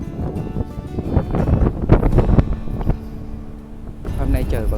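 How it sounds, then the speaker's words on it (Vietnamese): Wind gusting across an open park with grassy football pitches, a broad rushing roar buffeting the microphone, rising and falling throughout with some passing rustle. "Hôm nay trời vẫn rất là gió luôn các bạn ạ."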